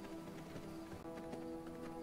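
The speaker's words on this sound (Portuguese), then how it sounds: "Cavalo." Horse hooves clip-clopping in the game V Rising, Secrets of Gloomrot expansion, a steady rhythmic trot of hoofbeats at moderate volume over a continuous game ambience.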